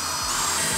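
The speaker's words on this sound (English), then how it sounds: "then you're going to drill some little pilot holes" A power drill boring little pilot holes while building a desk gives a steady high whine, loud and close, with no pause across the brief moment.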